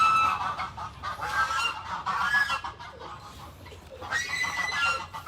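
Peacocks call on a farm in loud, repeated honking cries, several bursts overlapping across the span with a brief lull before a final strong call.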